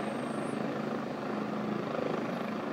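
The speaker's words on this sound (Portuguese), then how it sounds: "Helicóptero ali a aterrar." A helicopter landing on top of a building in the rain, a steady broadband rotor and engine roar heard from a distance, continuous and fairly loud with no talk.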